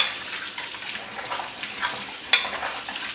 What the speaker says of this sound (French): Et puis, nous mettons de l'eau là-dedans pour nous rincer.